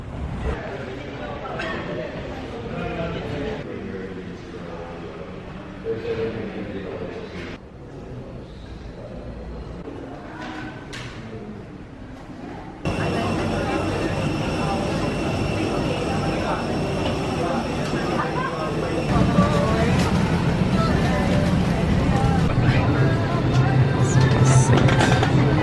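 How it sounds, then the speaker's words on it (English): Steady broad cabin roar of a small airplane in flight, loud and continuous, rising in level partway through with a low engine drone. "why are we on a small plane?"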